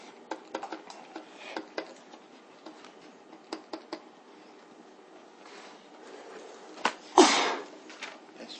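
A single sharp sneeze bursts out near the end, loud and close, following a stretch of faint scattered ticks and small room noises in a lecture hall.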